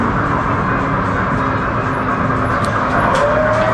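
A steady, loud rumbling of a small tourist road train rolling through Krosno, Poland, constant engine and wheel noise throughout with no pauses, heard from on board.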